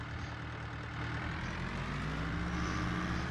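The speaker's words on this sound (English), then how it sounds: "Hopefully this truck's not too loud for you guys and you can hear me okay" A truck engine idles on a farm, a steady low rumble with a droning hum that grows slightly louder partway through, close by and continuous with no speech over it.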